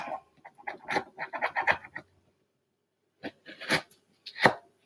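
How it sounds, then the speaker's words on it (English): A spoon cutting through cantaloupe rind where the orange flesh meets the green skin, a rapid series of close, crisp scraping crunches, a pause, then a few more strokes, no talking. "I'm going to use my spoon to do the cutting"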